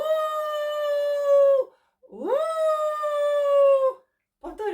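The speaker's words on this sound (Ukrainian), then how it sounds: "Вовк виє. Як вовк виє?" Two long, sustained wolf-like howls, each rising then holding a steady tone before trailing off, with a short gap between and a brief sound at the end.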